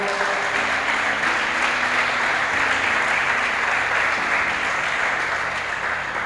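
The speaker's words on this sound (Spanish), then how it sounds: "Dele un aplauso al Señor en esta hora." A congregation applauds during a Spanish-language church service, a sustained, even roar of many hands clapping with a faint tonal hum beneath.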